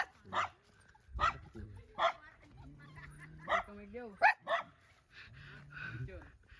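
Dog at a quarantine camp site in Siruma, Camarines Sur, giving a series of short yips and barks spaced about a second apart, close by, with people talking.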